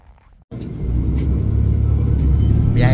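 Steady low engine rumble from inside a bus riding through a downtown area in freezing Canadian winter, starting after a brief quiet moment and continuing loud and constant to the end.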